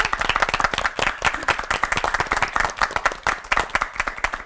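An audience applauds three pastors at a televised church sermon-panel event: dense, steady clapping from many hands, close and loud, with no talk over it for the full stretch.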